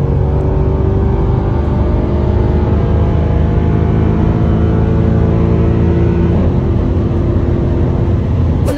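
Mercedes C63 engine running steadily at raised revs, a dense, loud, continuous drone heard close from inside the car, with no talking over it.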